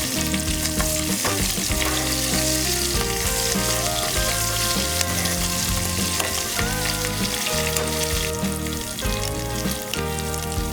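Chilies, curry leaves and fenugreek leaves frying in hot oil for a Telangana-style fish curry, a dense steady sizzle with stirring scrapes running loud and close throughout, no talking.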